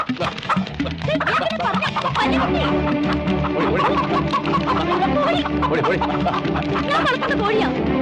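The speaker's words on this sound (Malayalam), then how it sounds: "വലിയ കോഴികളെ പിടിക്കുന്നു" Many chickens cluck and squawk loudly and continuously at close range, a dense, busy flock sound with voices mixed in.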